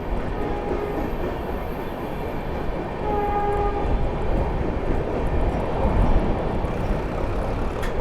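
The New Delhi–Varanasi Vande Bharat Express approaches with a heavy, steady rumble that grows louder. Sustained horn tones sound partway through.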